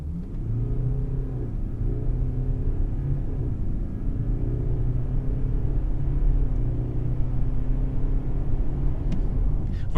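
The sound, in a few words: BMW X3 20d xDrive SUV doing a quick start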